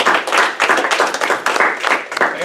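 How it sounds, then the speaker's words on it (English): Dense audience applause and clapping in a meeting room for a presenting group, loud and continuous throughout, close by with no talk over it. "Round of applause for group 2."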